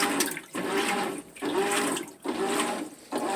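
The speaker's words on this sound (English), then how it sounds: "Deep fill is on. However, we are just still washing at the same water level." GE GTW465 top-load washing machine agitating in a deep fill of water, rhythmic swishing surges about every second, each ending in a short pause, heard close and without talk.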